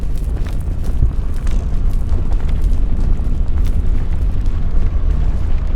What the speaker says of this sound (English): Uh-oh, fire tornado.